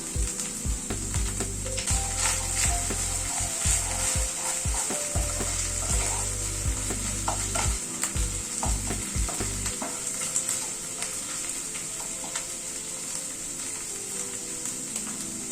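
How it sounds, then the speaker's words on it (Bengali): Green chilli paste fries and is stirred in a pan for paneer curry, a loud sizzle broken by repeated clattering spatula scrapes and knocks, then a calmer steady hiss, close with no talk. "সব ভালো করে একটুখানি কষিয়ে নিচ্ছি। এখানে 3টে কাঁচা লঙ্কা বেটে নিয়েছি, সেটা দিয়ে দিলাম।"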